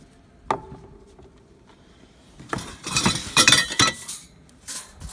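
Metal cooking grates of a new 26-inch Weber kettle grill being handled, a sharp clink followed by a cluster of rattling, scraping metallic knocks, close and fairly quiet with no talk.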